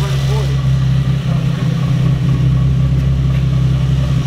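A car engine idles with a steady, loud low rumble after being restarted, running evenly throughout, with faint talk over it.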